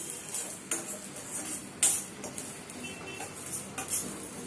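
Mustard, cumin and fenugreek seeds dry roasting in a pan, with faint scattered clinks and scraping from a stirring utensil, quiet and close with no voices.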